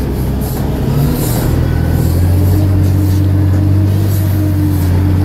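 An old Mack log truck's diesel engine idles loud and close, a steady deep rumble with a low droning tone that holds throughout.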